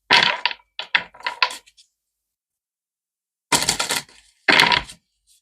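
Earth Magic oracle cards being shuffled by hand, giving two quick flurries of crisp riffling card clicks, then a long pause before two more brisk bursts, close and fairly loud with no talking.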